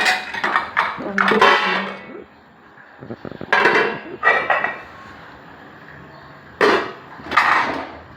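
Metal idli plates clank and clatter on a stove as idli is prepared at home, in several loud bursts of rattling separated by quieter pauses.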